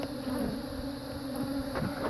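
A swarm of Africanized honeybees buzzing closely around an open hive during a hive split, a dense, continuous droning hum with individual bees passing near.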